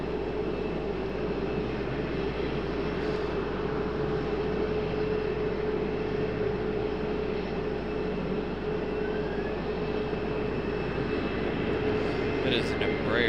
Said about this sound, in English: It is an Embraer departing, which you guys are hearing now